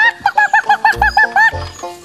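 A performer playing a hen imitates a hen with her voice: about ten quick, bright clucks in a bouncy rhythm, ending in a lower, drawn-out cackle, loud and close.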